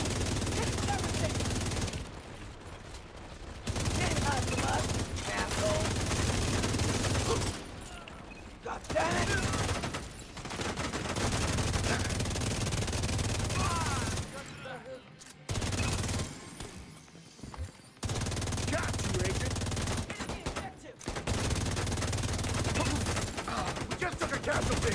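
Heavy gunners in a video game fire miniguns in long sustained bursts of dense automatic gunfire, loud and continuous, with a few short pauses between volleys.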